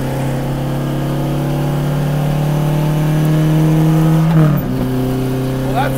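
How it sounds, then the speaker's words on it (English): Alfa Romeo GTA vintage racer's four-cylinder engine with side exhaust, a rumbly steady drone held close up, then a quick drop and shift in pitch near the end as revs change. "The four-cylinder engine has a side exhaust. It's quite rumbly."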